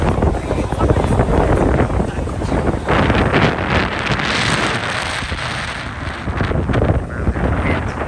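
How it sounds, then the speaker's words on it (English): Strong wind gusting on a Fort Lauderdale beach during spring break, a loud continuous roar buffeting the microphone with surges and faint surf beneath, heavy and close throughout. "That wind is unbelievable."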